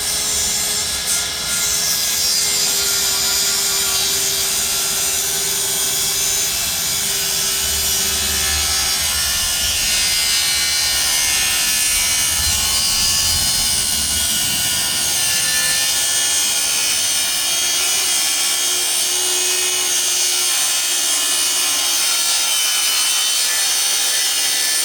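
Wooden porch posts for a two-level back porch on an 1892 townhouse are cut with a power saw, a sustained loud, gritty motor drone with rasping blade bite that eases and fades near the end, close with no talking.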